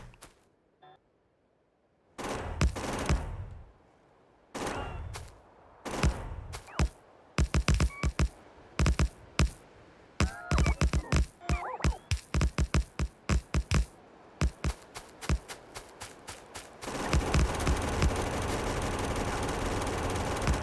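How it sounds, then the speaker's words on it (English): Gunfire from a player's weapon shooting trees in the Factorio game, Industrial Revolution mod, with short loud bursts and single shots in an uneven rhythm and a longer sustained burst near the end. "We'll just shoot some of these trees so there's less garbage in our inventory."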